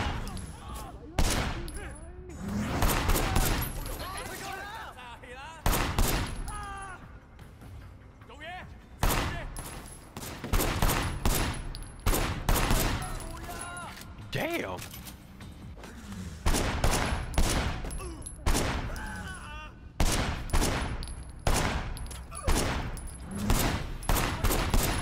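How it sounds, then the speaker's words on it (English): Rapid bursts of gunfire from a third-person shooter, Sleeping Dogs Definitive Edition, fired blindly from cover, crackle repeatedly and loudly throughout with short pauses, and a voice talks intermittently over the shooting. "This blind fire is terrible."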